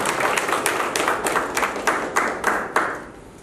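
Applause from an audience at a Tamil celebration event, a quick run of crisp, fairly close hand claps that fades toward the end.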